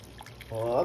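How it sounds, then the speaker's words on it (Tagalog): Water poured gradually into a pot of sinigang na hipon, a steady rising pour in the second half, close and moderately loud, after a quieter stretch with a voice in the background. "bubuhusan na natin ng tubig. Unti-unti."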